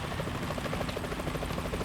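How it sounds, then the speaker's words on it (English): A helicopter in Metal Gear Solid 2 thuds along with a rapid, regular rotor beat over a low engine drone, steady and fairly close. "Is that a chopper I just heard?"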